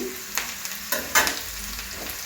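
Onion and tomato fry in hot oil with a steady sizzle, while a spoon scrapes and stirs the pan in a few brief, close strokes; no talking.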